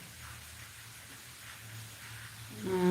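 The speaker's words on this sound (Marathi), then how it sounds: "एक घंटा झाला पाऊस पडत आहे" Steady rain hisses evenly throughout, a soft continuous wash of falling water with a low hum underneath and a faint rise at the very end.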